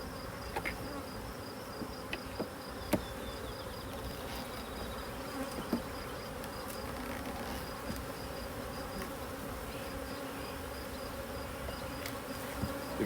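Agitated honey bees buzz in an open hive on a hot day, a dense, steady drone of many insects with occasional nearer passes and faint clicks of handling.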